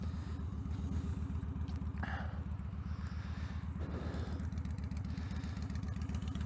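A motorized bicycle engine on a Lloydz torque tube setup idles with a quiet, steady low putter and an even pulsing rhythm, close by and alone.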